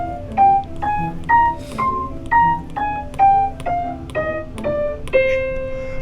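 C natural minor scale played on a pitched instrument, about a dozen distinct notes climbing and descending at an even tempo, close and alone without talk.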